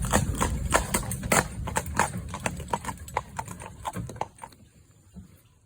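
A horse's hooves clip-clop steadily while pulling a cart downhill, close and clear in an even walking rhythm that slows and thins out at the end.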